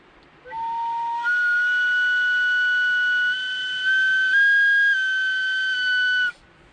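A hard blast of air through a holed survival whistle gives a steady, shrill tone of about six seconds, close and loud, with slight pitch steps over a breathy hiss.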